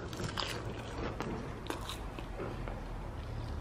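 Close, crunchy bites and chewing of small sushi rolls, steady mouth noises over a constant background hiss with no talking.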